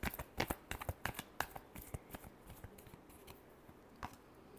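Tarot cards are shuffled by hand in a quick series of crisp riffling flutters and snaps, close and fairly quiet, with no voice over them.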